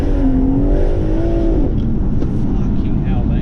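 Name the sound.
downpiped BMW M140i engine revving and burbling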